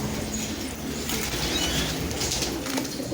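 Pigeons coo softly amid the dense, constant bustle of a bird market, their low calls close but partly buried in the surrounding crowd and ambient noise.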